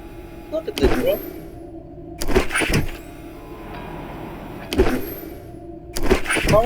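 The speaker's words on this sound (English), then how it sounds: "Cars driving by." Cars pass by in the FNAF: The Flipside game, four sweeping whooshes that rise and fade at regular intervals over a low steady hum, with a voice speaking briefly.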